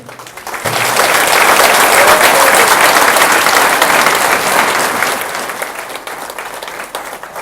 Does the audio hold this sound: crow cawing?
no